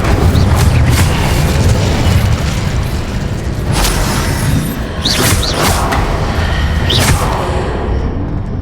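The Incendio fire spell is cast in Hogwarts Legacy, giving a booming, rumbling roar of flame with whooshing bursts. Several sharp, bright flares crackle through the middle of the clip, and there is no speech.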